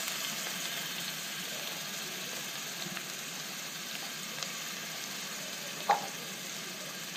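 Chopped ginger, garlic and small onions frying in oil for a prawn biryani, giving a steady, fairly soft sizzling hiss that carries on evenly with no voices.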